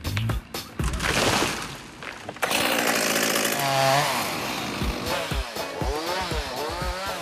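A chainsaw roars loudly up close, its engine revving and bogging as it cuts, with a brief break before it surges again.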